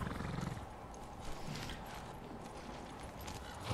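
Hooves clip-clop from a horse in Ghost of Tsushima amid busy game ambience and mechanical clicks, with no clear neigh standing out.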